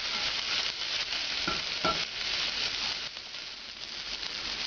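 Chopped ossobuco vegetables sizzle steadily in a pan, a dense continuous frying hiss with a couple of faint stirring scrapes, no talking.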